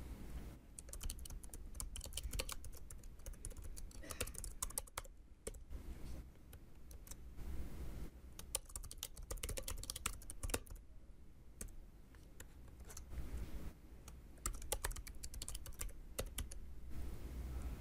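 Rapid, steady typing on a computer keyboard while filling in QuickLists in software, dense keystrokes clattering continuously throughout at a close, even level with no voices.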